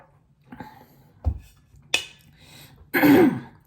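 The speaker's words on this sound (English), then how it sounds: "And I'm clearing my throat again." A few soft clicks and knocks, then a short, rough throat clearing close by.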